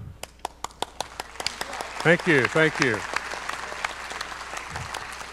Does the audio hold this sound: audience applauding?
yes